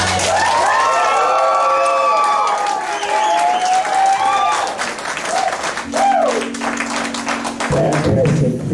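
A school class bursts into loud, sustained applause and cheering at a senior party hypnotist show, dense clapping mixed with shouts and whoops throughout, with voices talking over it.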